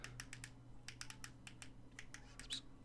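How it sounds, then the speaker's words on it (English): Typing on the small QWERTY keyboard of an air mouse remote gives faint, crisp plastic key clicks in irregular quick bursts, about a dozen taps over a quiet background hum. "If I flip it around to the QWERTY keyboard, I'm going to just type"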